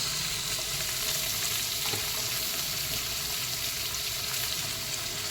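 Vegetables for hakka chowmein fry in oil in a pan at home, giving a dense, even sizzle that runs unbroken and close throughout, with faint stirring beneath.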